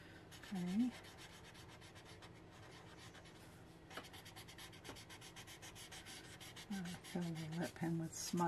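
A smudger rubs over a pencil drawing on paper, soft, faint scratchy strokes coming in short bursts, with quiet voice sounds in between.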